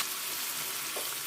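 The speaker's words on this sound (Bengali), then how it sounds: "এবার আমি একটু জল দিয়ে দেবো, হ্যাঁ, হাফ বাটির মতো জল দিয়ে দিচ্ছি।" A faint, even sizzle rises from a pan of fried spices as water goes in, part of a mustard and drumstick curry, with a soft hiss that holds steady and no voices.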